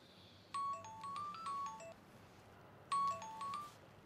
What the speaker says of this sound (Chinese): 飞哥，要不给张队打个电话？